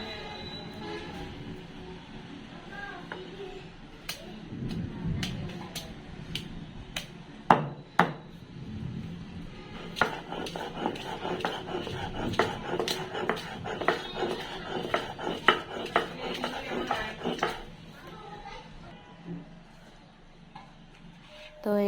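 Garlic, ginger and onion ground into a spice paste for cooking country chicken, with rhythmic knocking and grinding strokes that turn into a steady run of taps, close, with talking at the start.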